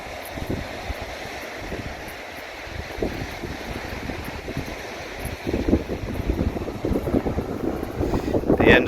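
Blustery wind buffets the microphone at a beach near Albany, with a continuous roar of ocean waves and surf that grows rougher and louder toward the end.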